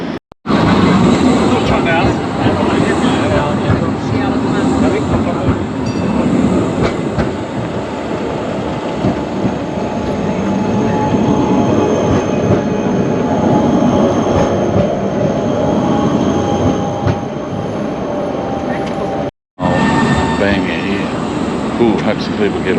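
Tram in Prague heard from inside during a ride, a loud, steady rumble of wheels and motor with rattling and faint squeals, nearly continuous with a brief cut near the end.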